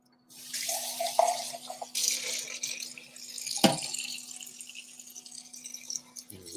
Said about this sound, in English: drain the beans and rinse them off in cold water